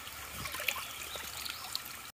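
A small, crystal-clear creek beside an Appalachian Trail shelter trickles and babbles steadily at close range, a soft, continuous wash of flowing water with no voices.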